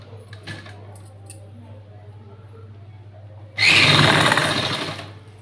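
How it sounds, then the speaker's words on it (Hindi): A sewing machine runs in one loud, close burst of rapid stitching for under two seconds while hemming cloth for a button-front blouse, after a quieter stretch of faint handling sounds and a low hum. "इस तरीके से सिलाई लगा देंगे।"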